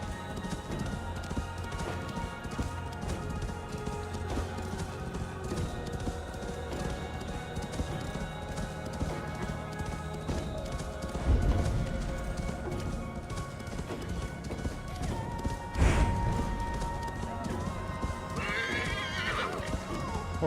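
Horse hooves clop steadily along a road in Assassin's Creed Valhalla, a continuous galloping rhythm with occasional whinnies and snorts over ambient game sound, no talk.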